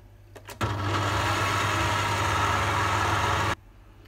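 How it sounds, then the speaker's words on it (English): An electric mixer whisks egg whites to stiff peaks for a chocolate pavlova, a steady motor drone that starts abruptly, runs for about three seconds close up, then stops. "add the egg whites and whisk them until they are stiff"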